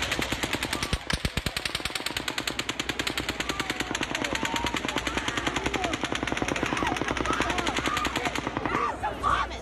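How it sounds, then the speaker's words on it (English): Rapid automatic gunfire from the October 2017 Las Vegas mass shooting, a long sustained burst of evenly spaced shots that stays loud and dense, echoing for nearly ten seconds with faint crowd noise underneath. "But then, a sixth burst of fire."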